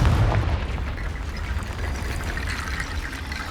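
A Confringo blasting spell explodes in Hogwarts Legacy, giving a loud, sustained rumbling boom with a crackling spread of debris that holds steady for several seconds.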